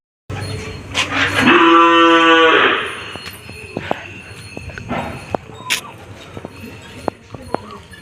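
Cattle at a rural spot: one loud, drawn-out moo close by, followed by scattered knocks, clip-clop-like footfalls and brief faint sounds.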